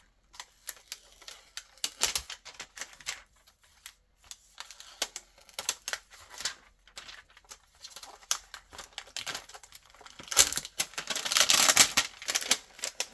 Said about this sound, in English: Let's peel this sticker off first.